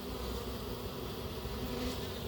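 Honeybees drone in a dense, steady buzz as a newly collected package colony slowly makes its way into the hive, the close, continuous hum holding level with no voices.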